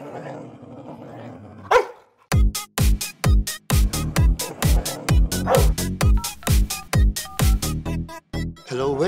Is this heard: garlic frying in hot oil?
no